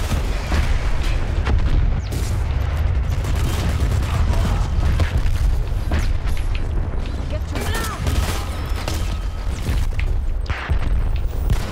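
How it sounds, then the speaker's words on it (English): Loud, continuous barrage of explosions and booming blasts from a sticky bomb going off in the first-person shooter Dirty Bomb, with gunfire layered through the dense battle noise. "Sticky bomb up!"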